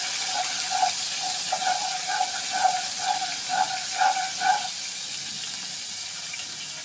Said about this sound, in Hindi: अब इसको हम थोड़ा सा ऑयल को लहसुन के साथ अदरक लहसुन को भूनेंगे